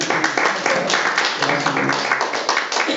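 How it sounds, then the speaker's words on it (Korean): Room full of board members at a regular Korean community association board meeting breaking into sustained, dense applause, loud and close, lasting the whole stretch without a break. "우리 이사장님한테도 한번 박수 한번 부탁드리겠습니다"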